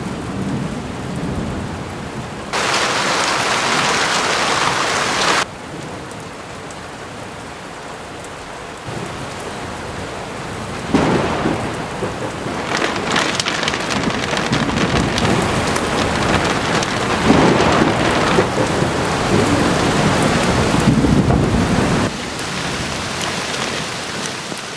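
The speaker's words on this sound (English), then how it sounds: "the heavens really opened up and the rain came belting down" Heavy rain pours down on an off-grid homestead during a thunderstorm, a loud steady wash of downpour with bursts of thunder rumbling through at intervals and no voices.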